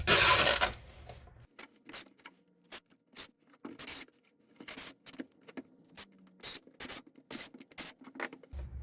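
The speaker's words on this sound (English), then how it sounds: "I'm just going to tape it up." Packing tape being pulled and pressed onto a shipping box: a loud ripping pull at the start, then a run of short scraping rubs and pats as the tape is smoothed down, close-up and quiet between strokes.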